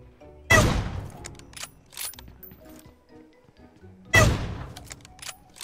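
Gunfire in the mobile shooter PUBG Mobile: two loud, sharp shots several seconds apart, with fainter clicks and pops in between.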